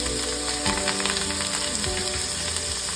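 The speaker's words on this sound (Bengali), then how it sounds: "এখন আমি অনিয়নটা কিছুক্ষণ ফ্রাই করে নিলাম, 5 মিনিট" Two onions frying in hot oil with whole garam masala, cardamom and cinnamon for a Bangladeshi chicken curry, a steady close sizzle with occasional stirring scrapes, no voices.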